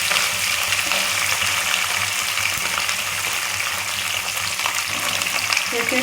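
Drumstick vegetable stems frying in hot oil in a kadai for pickle, giving a loud, dense, continuous close sizzle that holds steady from start to finish, with no talk.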